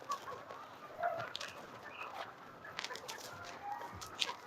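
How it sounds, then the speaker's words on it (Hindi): Desi chickens run about a yard pecking at insects, giving scattered soft clucks and bird calls against a quiet outdoor background, with brief faint sounds here and there. "ये देखें कैसे दौड़ रही हैं इधर उधर, साथ साथ कीड़े खा रही हैं।"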